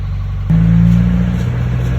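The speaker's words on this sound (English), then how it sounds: "just drive the car to like 20 miles an hour, shut it down" A Subaru WRX strapped to an all-wheel-drive dyno starts up abruptly about half a second in, then settles into a loud, steady low engine drone with no voices.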